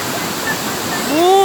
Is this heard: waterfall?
yes